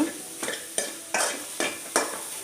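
A spoon stirs a spoiled milk mixture in a pan in quick repeated scrapes, about six sharp strokes against the metal over a soft sizzle, close and fairly loud.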